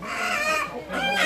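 Local chickens and a rooster clucking and cackling in two close bursts, a busy farmyard chatter with no voices over it.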